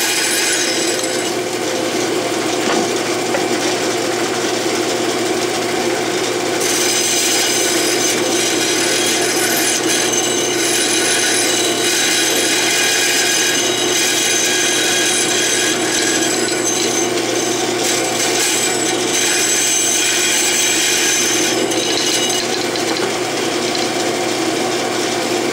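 A hand saw cuts through the spoke of a rough lead flywheel casting, making a steady, continuous rasping that stays loud and close for the whole stretch with no talking.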